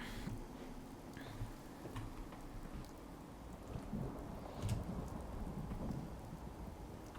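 Rain and thunder in the video game Fallout 4 while a settlement is being built, with a steady hiss of falling rain and soft, distant rolls of thunder that stay quiet throughout.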